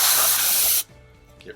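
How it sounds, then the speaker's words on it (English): Compressed air sprayed into a dusty Dell Optiplex desktop computer case, a loud continuous close-up hiss lasting under a second before it cuts off to near quiet. "And I can spray through the front now."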